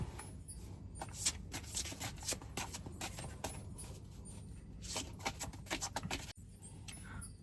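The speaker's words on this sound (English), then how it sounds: "we'll shuffle the Oracle of Black Enchantment to see if I missed anything" Oracle card deck being shuffled by hand, a quick run of crisp riffling and flicking card sounds close up, with a short pause near the end before the shuffling resumes.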